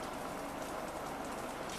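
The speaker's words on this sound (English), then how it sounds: "still raining, is it?" Steady rain falling outside, a soft continuous hiss of drops on surfaces with no voices over it.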